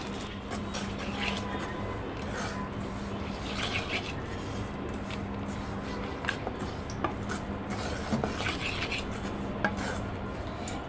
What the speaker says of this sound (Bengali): কড়াই থেকে সবগুলো মাছই নামিয়ে নেব